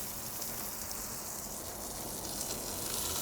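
Beef sears in hot oil in a Dutch oven, giving a steady, dense hiss of sizzling that holds constant and moderately loud throughout, with no voices.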